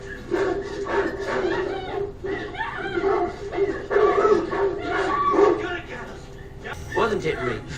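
A pack of hunting dogs barks, yips and whimpers in an excited chase through woods, near and continuous under a noisy, busy background with intermittent voices.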